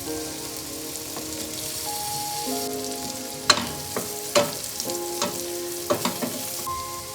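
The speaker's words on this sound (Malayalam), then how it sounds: "ഇനി ഇതിലേക്ക് ക്യാപ്സിക്കം ഇട്ട് 1 മിനിറ്റ് വഴറ്റാം." Capsicum and onion sauté in a pan for pasta sauce, a steady close sizzle with scattered sharp pops and crackles, no talking.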